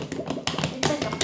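Slime being squished and worked by hand, giving a run of quick, close, crackly pops and taps in loose irregular bursts, fairly soft and with no talking.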